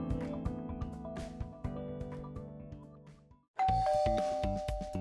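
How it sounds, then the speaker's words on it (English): An apartment doorbell chimes, a two-tone ding-dong that rings out and decays, then sounds again with a sharp bright tone, close and alone with no voices. "the doorbell suddenly rang"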